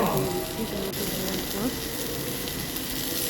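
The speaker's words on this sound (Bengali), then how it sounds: "এখন পেঁয়াজ দিয়ে দিচ্ছি পেঁয়াজ দিয়ে রসুন দিয়ে একসাথে না নেড়ে নাড়াচাড়া করে দেবো" Onion and garlic fry together in a pan for soup, giving a dense, steady sizzling hiss close by, with faint stirring movements within it.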